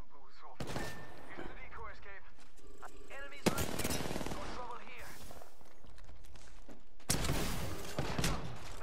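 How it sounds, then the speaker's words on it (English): Gunfire bursts from a shotgun in the video game Apex Legends erupt loudly in rapid clusters, with one long volley near the start, another mid-clip and a final burst at the end, mixed with game sounds and a voice talking. "Shooting that freaking shotgun"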